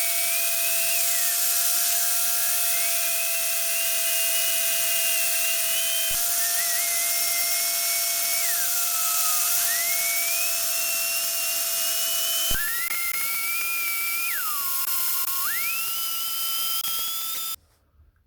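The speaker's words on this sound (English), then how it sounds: "I'm going to get the grinder out and see if I can get this into a slightly better shape and make it somewhat smoother than this" An angle grinder with a coarse grit disc smooths a cast metal Lego figure, holding a steady, loud, high whine that sags in pitch and recovers several times as the disc bites into the metal.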